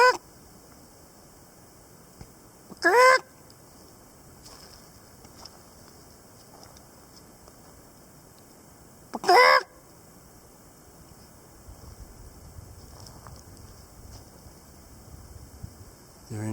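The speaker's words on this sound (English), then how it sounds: "Bunch of turkeys running away." Wild turkeys call twice out on a mountain range trail, two short loud gobbling bursts several seconds apart over faint outdoor background, with a rustle of movement near the end.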